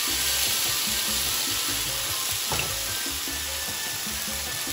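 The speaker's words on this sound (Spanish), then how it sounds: "Yo voy a comenzar a freír mis bisteces." Beef steaks fry in oil on a hot griddle, giving a continuous, even sizzling hiss close by with no talking.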